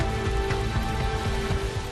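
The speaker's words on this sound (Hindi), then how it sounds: "तूफानी बारिश ने पूरे शहर को जैसे झिंझोड़ कर रख दिया हो" Heavy stormy rain from Cyclone Biparjoy pours down on Udaipur, Rajasthan, a dense, loud, steady hiss of drops hitting surfaces with no voices.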